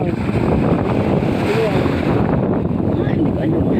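Strong wind gusts buffet the microphone beside the sea at sunset, with a rough, continuous roar and the wash of high waves blended into it, steady and loud throughout, with muffled voices beneath.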